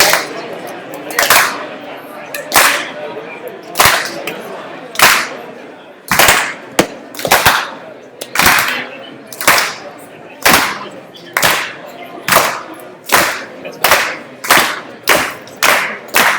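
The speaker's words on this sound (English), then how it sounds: "I see Nathan's already ready for the slow clap" An audience slow clap, loud sharp claps at a steady rhythm that gradually quickens, each clap ringing out clearly.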